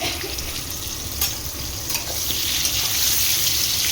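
Hilsa fish fries in hot oil, giving a loud, continuous sizzle with sputtering crackles that grows fuller toward the end, heard alone without voices.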